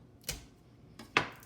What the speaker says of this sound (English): crush the cloves with the back of your knife